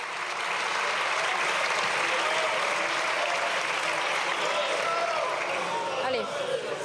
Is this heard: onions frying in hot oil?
no